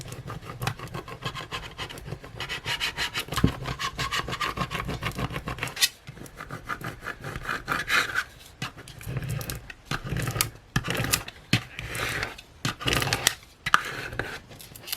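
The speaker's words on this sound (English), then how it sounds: "give it a really good push down to try and transfer the vinyl onto the tape" Vinyl being rubbed firmly down onto transfer tape for a Cricut Joy coaster project, giving a close, continuous scraping and rasping that rises and falls in strokes with brief pauses, no talking.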